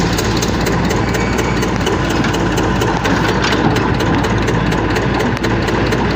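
A Hitachi excavator's heavy diesel engine runs steadily at a bridge demolition site, a loud, close, continuous low rumble with a faint rhythmic throb and occasional small knocks, no voices.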